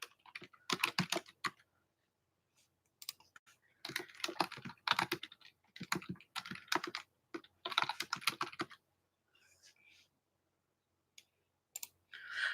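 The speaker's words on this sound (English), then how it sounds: "I keep turning off my keyboard." Bursts of fast, crisp typing on a computer keyboard come in several separate runs with quiet gaps between them, close and clear with no talking.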